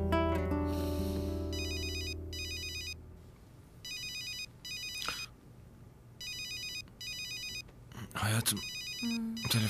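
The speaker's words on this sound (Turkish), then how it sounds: "Telefon." A telephone rings in repeated electronic bursts with short gaps between them, loud and close, while people speak briefly over it.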